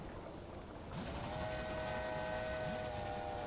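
A train in the railway management video game Railway Empire rolls along with a steady low rumble, a sustained whistle-like tone rising in after about a second, continuous and moderately faint.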